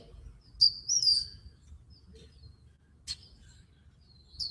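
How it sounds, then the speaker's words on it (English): Seagulls call outdoors in a few faint, distant, high cries: a drawn-out pair near the start, then a brief call and a thin cry near the end, over a low background rumble. "Seagulls."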